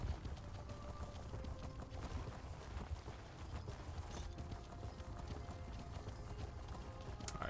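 Horse hooves clip-clopping steadily in The Elder Scrolls Online, a continuous trotting rhythm mixed with dense in-game ambience and wind, with no talk.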